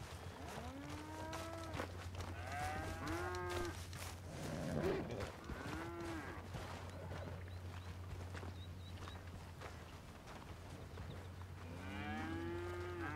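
Cattle moo repeatedly in Red Dead Redemption 2 on a game farm, several drawn-out lowing calls spaced across the scene over a steady low hum, with faint hoof clops in between.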